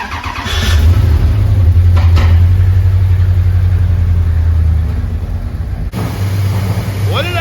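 A project car engine runs with an imperfect exhaust, a loud steady low rumble that drops briefly near the end before idling on, with faint clanks and a voice over it.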